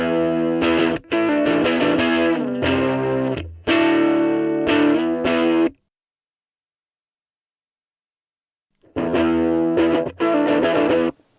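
Electric guitar played through a Boss MG-10 amplifier set to crunch with the warp distortion control engaged; loud, fuzzy chords ring out in several bursts, stop for a few seconds of silence, then return.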